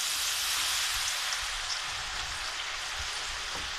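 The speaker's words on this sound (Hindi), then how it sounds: "अब मैं इसको मीडियम टू लो हीट पे रख के और ये आलू मैं फ्राई करूँगी।" Potatoes fry in hot oil over medium-low heat, giving a steady, close crackling sizzle throughout, with no talking.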